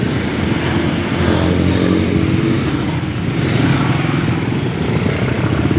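Heavy road traffic of cars and motorcycles on Malagasang Coastal Road, a continuous dense roar of engines passing nearby without any clear breaks.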